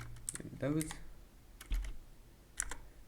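Computer keyboard typing in short clustered bursts of clicks, close and fairly quiet, with a brief low thump midway.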